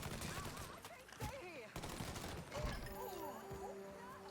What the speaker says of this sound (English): Oh, I still have the machine gun, cool.